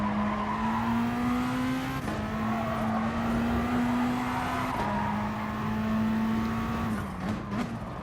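Race car engine at Tsukuba in Gran Turismo Sport, holding a loud steady drone with a few brief pitch drops at gear changes and a faint tire squeal near the end.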